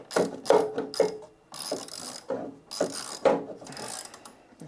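Ratchet wrench clicks repeatedly as a nut is run onto a lock washer and washer on a large 95mm DC cable terminal, close and distinct in several bursts of rapid ratcheting separated by short pauses.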